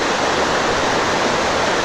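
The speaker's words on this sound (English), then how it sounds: "This is how we get across this raging creek." Raging mountain creek swollen with snow melt in Montana's Absaroka Beartooth Mountains, a loud steady broadband roar of rushing water heard close by from a footbridge, continuous with no talk.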